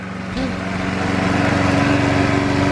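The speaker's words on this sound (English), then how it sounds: "Well, he decided to push mow." Push lawn mower engine running outdoors on a farm property, a steady loud droning hum that starts abruptly and holds level throughout, close to the microphone.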